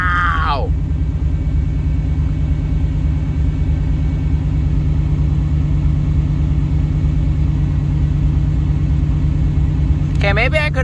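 Steady, loud idle of the V8 engine in a 1990 Chevrolet K1500 pickup, a continuous low rumble that holds throughout, with a short voice at the start and again at the very end.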